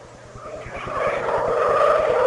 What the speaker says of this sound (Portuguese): O grito do motor da Ferrari é sensacional.